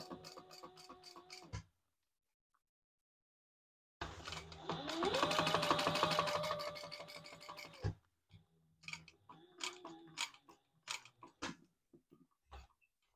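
A sewing machine stitches a retro-style sling bag, a close, fast rattling run of needle strokes lasting about four seconds, with scattered clicks before and after.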